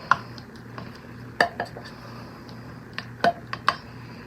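A ladle scrapes and knocks against a pan while spreading enchilada casserole sauce, giving scattered sharp clinks and taps at an irregular pace over a quiet low hum, with no talk.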